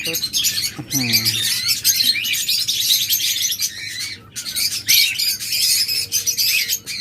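Pet lovebirds, budgerigars and finches chirp, squawk and tweet continuously at a close-range bird sale, with a loud, dense chorus and a brief lull midway.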